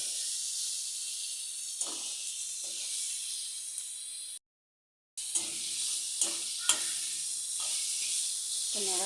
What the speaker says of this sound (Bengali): এখন টমেটো কয়টা দিয়ে দিলাম, আর একটু নাড়াচাড়া করে নেব।